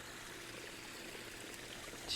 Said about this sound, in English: It's a pondless waterfall, and I really love it.